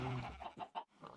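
Chickens clucking in the Minecraft Feed the Beast modded game, a few short bursts of clucks that come through fairly clearly and sit close and alone over the game's soft background.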